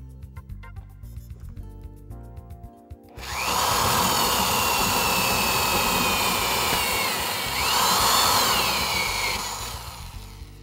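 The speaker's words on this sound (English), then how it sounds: "we're going to start drilling the hole through the wall" A power drill spins up with a loud, steady grinding roar as a hole saw bites into the wall, rising briefly before easing off near the end.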